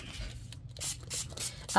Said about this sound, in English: We could spray a little.